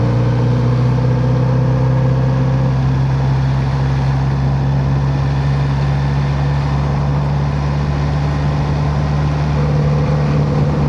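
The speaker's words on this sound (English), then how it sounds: "I do like the lower gears because that noise out the exhaust is so nice." A 2026 Kawasaki Z900RS motorcycle exhaust rumbles in a lower gear, a loud steady droning engine note heard close while riding, with constant wind noise and no talk.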